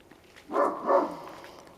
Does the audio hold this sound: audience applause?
no